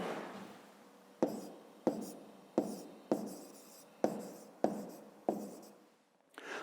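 Pen writing on paper in short strokes, about eight crisp scratchy bursts in a loose rhythm, close and quiet, each fading before the next.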